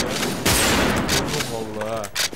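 Gunfire from the online shooter Wolfteam in a hide-and-seek match, a dense burst of rapid shots with talk over it.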